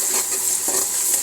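Garlic, sliced onion and bay leaf fry together in oil for masoor dal, a brief, steady, fairly loud hiss with faint stirring clicks.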